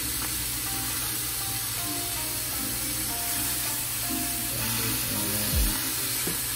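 A burrito fries in oil in a pan with a constant close crackling sizzle throughout, over faint background tones and a brief low thump near the end.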